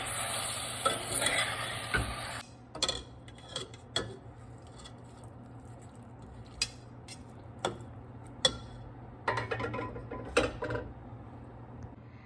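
Mutton biryani cooking in a pot, with a loud sizzling hiss at first that soon drops, followed by scattered stirring scrapes and clinks of a spoon against the pot at irregular intervals.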